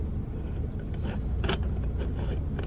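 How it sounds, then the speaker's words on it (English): Metal threaded halves of a stovetop Cuban coffee maker being screwed together by hand inside a semi truck, a few close scraping and grinding twists over a low rumbling background. "Now I screw this up here."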